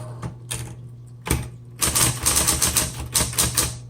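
A 1970s Smith Corona Electra 120 electric typewriter typing: a few separate key strikes, then a fast, even burst of loud, crisp keystrokes heard up close.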